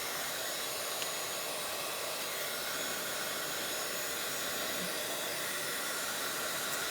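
A hair dryer blows steadily to dry paint on a page of a Bible journal, a continuous broad whooshing hiss that holds close and even throughout with no voices.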